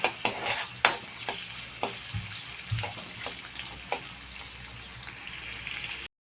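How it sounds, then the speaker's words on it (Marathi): An onion sizzles gently in a pan for desi macaroni pasta, with a steady soft frying crackle broken by several sharp spoon taps and stirring scrapes, fairly quiet and close. "आता यामध्ये आपण 1 कांदा टाकून घेणार आहोत।"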